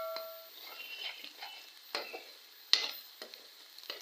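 Onions frying in a pan until golden for a masala, giving a soft continuous sizzle with occasional stirring scrapes and clinks, fairly quiet and close.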